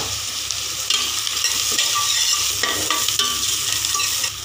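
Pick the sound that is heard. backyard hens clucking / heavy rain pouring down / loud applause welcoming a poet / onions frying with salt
onions frying with salt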